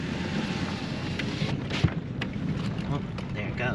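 Strong wind roars and buffets around a vehicle passing through a dusty pit, a steady broadband rush with gusts. Faint voices sit underneath it.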